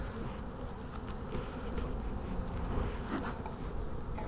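Honeybees swarm densely over a frame lifted from the hive, a continuous close droning buzz that holds steady throughout with no talking.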